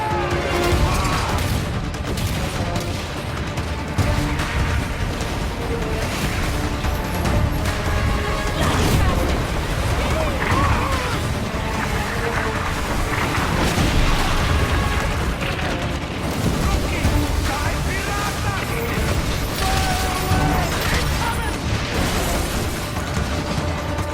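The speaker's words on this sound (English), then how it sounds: "Commodore turns his cannons on you. You brace for fire, absorbing the first blow." Cannon fire and explosions rage in a naval battle video game, a dense, continuous barrage of booms, crashes and thuds layered over a loud orchestral score with no pauses.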